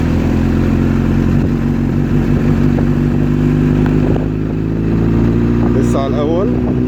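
A motorcycle engine runs close by and builds revs as the rider opens the throttle during a beginner riding lesson, a loud steady drone with a voice talking over it.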